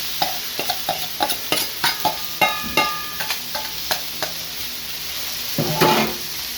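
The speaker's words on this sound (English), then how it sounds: "Now with that oil, I'm going to add in my seasoned onions." Seasoned onions frying in leftover oil from a seared Wagyu flat iron steak, a steady sizzle broken by regular close clacks of a utensil stirring against the pan, with no talking.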